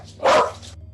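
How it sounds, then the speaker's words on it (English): A dog barks in a house just behind, giving one loud, close burst over a low steady hum. "there is a dog going completely mental in the house behind us"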